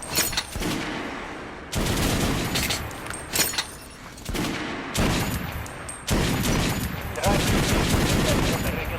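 Rifle gunshots at a shooting range in the video game Metro Last Light Redux, loud sharp reports fired in quick bursts with short pauses between, each trailing into echoing decay.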